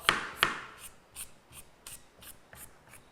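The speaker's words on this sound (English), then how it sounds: "slices through it with a knife" A knife makes several short scraping slices through slippery catfish leg bait, about eight quick close strokes in an uneven rhythm, with no talk.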